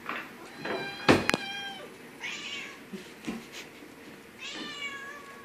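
Several house cats meowing close by in short, repeated calls spread across a few seconds, with a sharp knock or clatter partway through and quiet room background.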